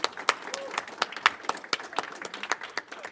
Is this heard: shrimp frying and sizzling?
no